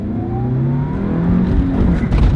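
A quiet sports car pulls away from a standstill, its engine note rising steadily as it accelerates, heard loud and close from inside with road rumble and no talk.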